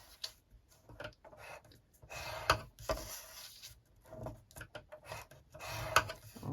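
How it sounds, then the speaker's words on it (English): Bone folder scoring lines into designer series paper at half-inch marks on a 2.5 by 2.5 inch square for a small lidded treat box, giving soft close rasping strokes and rubs in uneven bursts with no talking. "I'm just going to score that at 1/2 inch on all 4 sides."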